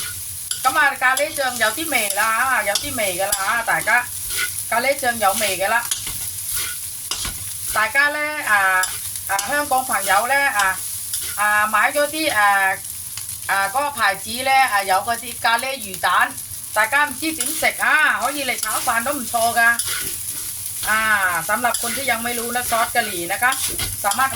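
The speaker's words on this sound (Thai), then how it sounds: "ผัดเลยค่ะ ผัดเลยนะคะ ในซอสกะหรี่เนี่ยมันจะมีรสชาติแล้วนะคะ" Rice fried with curry sauce in a pan sizzles steadily while a utensil scrapes and stirs it in repeated bursts, and someone talks over the cooking throughout.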